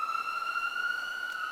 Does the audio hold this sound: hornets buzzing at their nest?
no